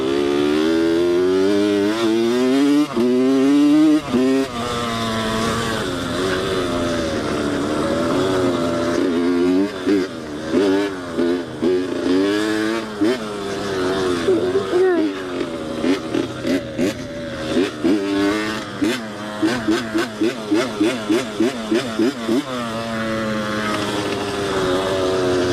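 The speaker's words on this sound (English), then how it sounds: "Yeah, that's a hunting four-wheeler." A hunting four-wheeler engine revs and shifts while riding, its loud buzzing whine rising and falling repeatedly as it accelerates and backs off, close by throughout.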